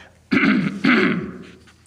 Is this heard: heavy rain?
no